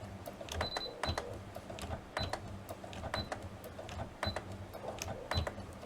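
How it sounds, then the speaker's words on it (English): A sewing machine back stitches a Christmas stocking in quick repeated bursts of clattering needle strokes, short stops between runs, fairly quiet and close with no talking. "I'm going to back stitch."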